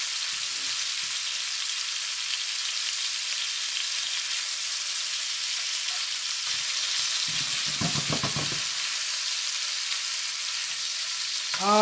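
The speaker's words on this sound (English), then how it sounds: "And we want to brown them up. Brown it on all four sides of it." Steak and potatoes browning in a hot pan for a stir fry, giving a steady loud sizzle throughout, broken near the end by a short burst of stirring or shifting food, with no talk.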